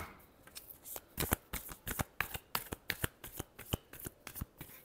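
Tarot cards are shuffled by hand in a close, crisp series of riffling snaps and flutters, roughly a dozen quick bursts in fairly even rhythm.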